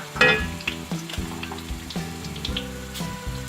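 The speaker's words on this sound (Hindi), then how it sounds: "प्याज ब्राउन हो गए हैं। अब इसमें मिर्चें डाल देंगे।" Chilies drop into browned onions in hot oil and set off a loud burst of sizzling, which then settles into steady close frying with a few clinks of utensils.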